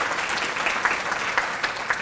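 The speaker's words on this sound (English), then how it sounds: "You can clap for that." An audience at a political gathering applauds, a dense, steady clatter of many clapping hands that continues evenly for about two seconds.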